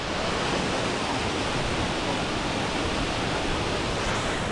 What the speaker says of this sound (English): And look at this waterfall.